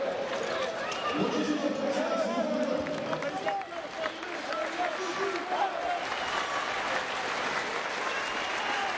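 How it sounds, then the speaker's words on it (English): Iberostar Tenerife fans applaud both teams after a 66-65 home basketball loss to PAOK, a broad, steady arena clapping with crowd murmur and an announcer talking over it. "generous applause from the Iberostar Tenerife fans for both of these teams"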